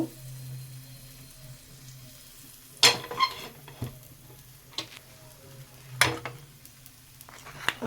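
Patisapta batter sizzles softly in a hot pan while it is spread and swirled, with sharp scraping strokes at intervals over a low steady hiss, close by.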